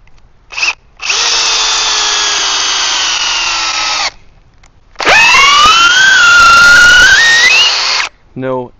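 A Metabo HPT DV36DC cordless drill on a 4 amp-hour battery, in speed 2, drives a 10 inch TimberLok screw into wood: two loud, close motor runs, the second straining under load with a rising whine.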